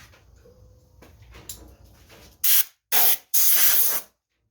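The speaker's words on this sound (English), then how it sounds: "That little spray down." Three sharp bursts of aerosol spray hiss loudly onto leather, the last one longer, after some quiet handling noise.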